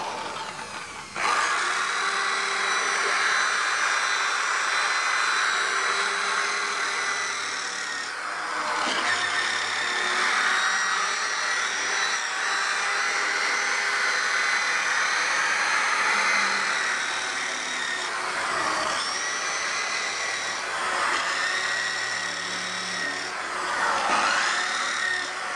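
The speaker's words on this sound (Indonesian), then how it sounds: "Baru kita pakai mesin poles." A car polishing machine runs continuously with a steady whirring motor drone, fairly loud and close, briefly dipping in pitch and load several times as it presses against the bodywork.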